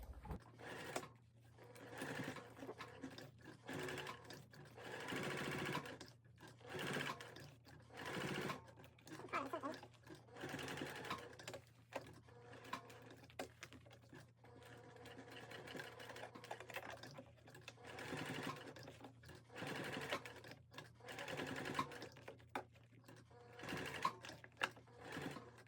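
A sewing machine runs in repeated bursts as it quilts stitches into a small fabric Triskele wallet, each run of fast, even needle clatter starting and stopping, with soft talk in between.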